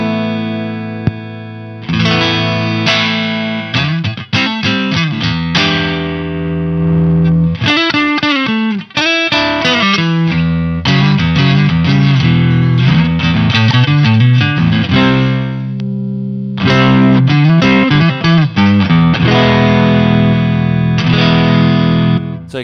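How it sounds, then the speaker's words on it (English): An electric guitar plays through an Amptweaker TightDrive Pro overdrive pedal with its Plexi EQ switch engaged, giving a loud, sustained, crunchy distorted tone in strummed chords and riffs with brief gaps. "To its right is the Plexi EQ switch, which basically puts it in sort of a Plexi territory as far as the tone goes."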